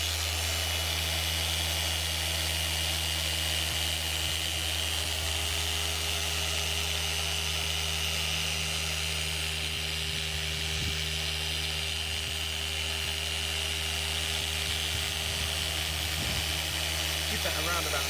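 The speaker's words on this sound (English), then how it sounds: "nice and slow, just let the polisher do the work" Car polisher buffing the paintwork of a Skoda Fabia vRS, a steady, continuous whirring drone held at even loudness throughout, with a voice talking faintly beneath it.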